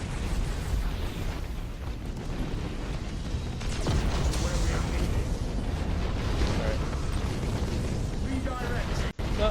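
Main batteries of a Space Marines fleet fire in the space battle game Battlefleet Gothic Armada, a dense, rumbling barrage of booming blasts that rolls on continuously and loudly, ending with one sharp cutoff click.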